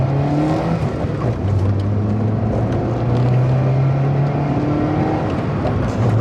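A small Citroën Saxo engine drones and revs steadily from inside the car, loud and continuous, with road rumble underneath.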